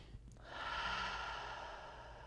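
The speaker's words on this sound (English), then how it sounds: "Not really sucking breath in, but just taking easy breaths." One slow, easy breath taken as part of a calming breathing exercise: a soft, airy rush of air that swells after a brief pause and holds steady for about two seconds, close and quiet with no talking.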